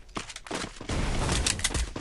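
Bursts of gunfire in a mobile shooter game played on an iPhone 8 Plus in a championship match, several sharp shots followed by a dense, sustained volley, loud and close with no talk over it.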